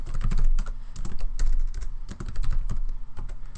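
Fingers typing a command on a computer keyboard, a close, brisk run of clicking keystrokes in uneven bursts with short pauses, heard alone without talk.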